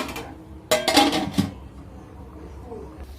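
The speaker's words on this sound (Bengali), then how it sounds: "আমি এবার এটাকে ঢেকে দেব।" A metal lid set onto a pot of basanti pulao on the stove: a short cluster of clanks and rattles, one sharp knock, then a quiet kitchen hum.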